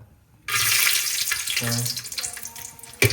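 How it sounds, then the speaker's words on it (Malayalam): Hot vegetable ghee (Dalda) hisses and crackles in a hot pan, a sudden bright sizzle that starts loudly and gradually settles into a softer, steady frying sound. "തട്ടി ചൂടായി ഡാൾഡ് ഒഴിച്ചു ഇനി ഒന്ന് ഒന്ന് സെറ്റ് ആവട്ടെ"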